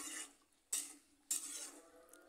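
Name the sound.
stirring flat beans with mustard paste in a pan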